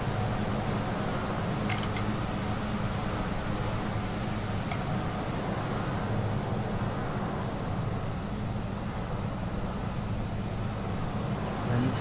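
An Aerosoft Twin Otter landing in Microsoft Flight Simulator on a Glasgow to Barra flight gives a steady, loud engine drone with airflow noise that runs unbroken throughout, with no talking.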